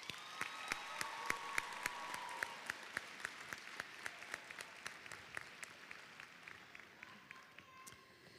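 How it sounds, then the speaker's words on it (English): Audience applause fills a high school graduation ceremony, a dense steady patter of many hands with sharper individual claps standing out, sustained throughout at moderate distance and gradually thinning toward the end. "Please join me in applauding all of their accomplishments."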